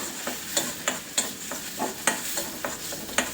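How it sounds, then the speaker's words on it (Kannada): Stuffed green-masala eggs fry in oil while a spatula stirs them, giving a soft sizzle with regular scraping strokes roughly every third of a second. "ಸುಮ್ಮನೆ ಎಣ್ಣೆಯಲ್ಲಿ ಹಾಕ್ಬಿಟ್ಟು ಒಂದು ಸ್ವಲ್ಪ ಫ್ರೈ ಮಾಡಿದ್ರೆ ಸಾಕು."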